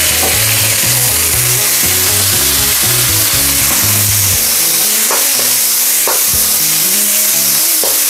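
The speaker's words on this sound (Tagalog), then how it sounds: "lutuin lang po natin ang ating ground pork" Ground pork fries loudly in a pan, a dense continuous sizzle under a low droning hum, with brief sharper crackles toward the end.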